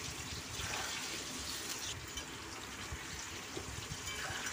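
Potatoes frying on low heat in a pan for mutton kosha give a steady, close hiss and crackle that runs evenly throughout with no pauses or talk.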